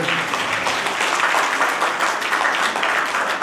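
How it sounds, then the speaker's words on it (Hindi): A crowd at an Arya youth council foundation-day gathering claps in welcome, a dense continuous burst of applause close and fairly loud throughout. "एक बार तालियां बजा के स्वागत कर दें।"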